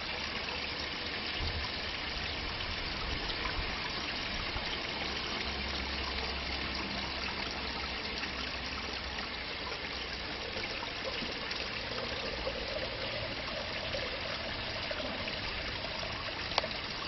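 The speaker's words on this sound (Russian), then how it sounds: "И здесь еще есть вот такая вот настоящая пробка, которая позволяет слить воду." Water drains steadily from an old washing basin through its plug, a continuous soft trickling and gurgling close by with no talk.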